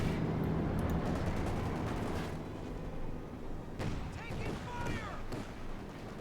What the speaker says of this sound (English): Got another strafing run here though from Tonkatsu.